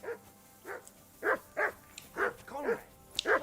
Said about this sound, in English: I assume you can hear that damn dog